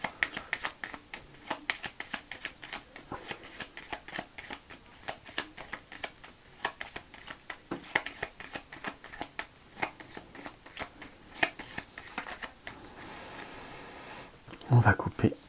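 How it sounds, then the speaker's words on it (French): A deck of tarot cards is shuffled and cut in a quiet room, producing steady soft riffling and flicking for the whole stretch, with a voice speaking French over it. "On va couper. Je coupe, je ne sais pas pourquoi, mais c'est l'habitude."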